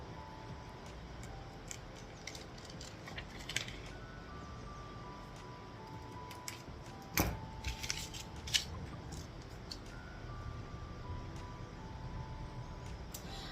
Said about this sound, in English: I make sure that I cut on the inside of this black line